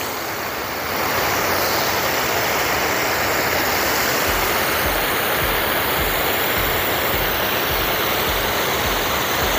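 Sprinklers water the grass of training field B at the Gelora Bung Tomo stadium complex in Surabaya, a loud, dense, continuous hiss of spray that swells after the first second and holds steady throughout, with nobody speaking.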